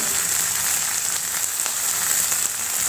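Broken dried red chillies and onion sizzling in hot oil for kachnar leaf greens, a dense, steady, loud frying hiss close up with no talking.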